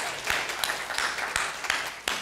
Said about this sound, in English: Can we applaud our friend Pastor Ray?